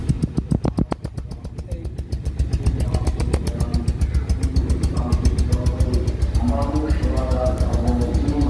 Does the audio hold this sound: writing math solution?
no